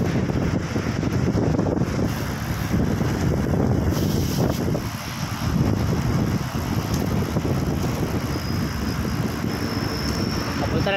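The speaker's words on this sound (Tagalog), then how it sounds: "Mas pa rin ang hangin, grabe." Strong wind buffeting a boat at sea, a loud continuous roar and rumble of gusts over the microphone, with faint engine-like drone and no clear speech.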